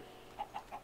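Three short, evenly spaced clucks from a Minecraft chicken, close and clear over a faint game background.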